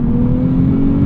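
A Nissan 370Z Nismo engine pulling steadily at about 4,000 RPM in second gear, a loud, even droning hum heard from inside the car with no voices.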